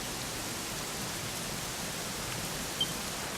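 Steady, even rain hiss from the video game Dragon Quest XI, a constant wash of falling rain with no talk over it.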